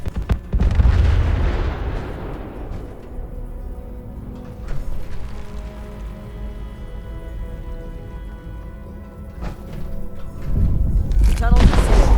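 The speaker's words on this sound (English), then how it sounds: "detonating the bombs." Bombs detonate inside a tunnel in the video game Fallout 76. A deep, booming blast opens, a rumbling roar carries on through the middle, and a heavy explosion swells again near the end.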